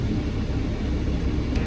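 A car, newly fitted with adjusted control arms and a fresh alignment, rolls along on a test drive, giving off a steady, muffled low rumble of engine and road noise with no talk.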